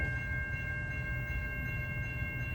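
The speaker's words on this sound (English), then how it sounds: "approaching at 525 is the second Port Jervis train, number 53. And he's got a General Motors diesel." A Port Jervis passenger train led by a General Motors diesel approaches on the former Erie main line in northern Bergen County, New Jersey: a steady, fairly distant low rumble with a faint sustained tonal whine above it.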